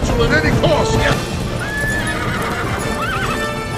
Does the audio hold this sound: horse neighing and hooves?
yes